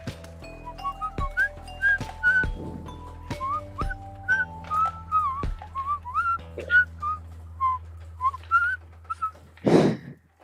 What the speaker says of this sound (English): Did you hear what I was whistling?